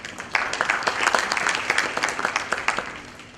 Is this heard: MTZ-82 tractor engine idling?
no